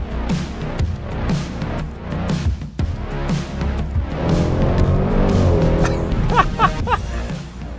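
Dodge Durango Hellcat SUV on the road, its engine and road noise holding a steady loud drone throughout, with a brief surge and some tire-like squeal near the end.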